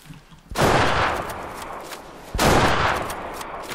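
Two loud, close gunshot blasts in the hunting video game Way of the Hunter, each followed by a long rolling echo, set during a wild boar hunt in Transylvania.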